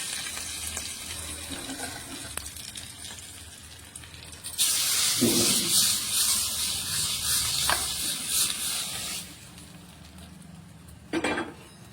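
A sharp hiss bursts up as garlic and curry leaves hit hot oil for tempering, sizzling steadily for several seconds, then cuts off, with light clinks of utensils before and after.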